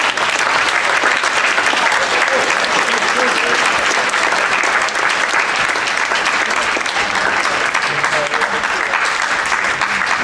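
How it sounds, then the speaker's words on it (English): Audience applause for two state representative candidates after a debate at Harwich High School on Cape Cod, a dense steady clapping from a crowd that fills the whole stretch without pause. "please give a round of applause for both candidates"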